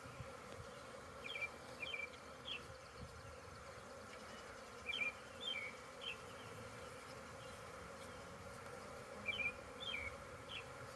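Honey bees swarm during a beehive split, a faint, steady buzzing hum close by, with a few brief high chirps rising over it now and then.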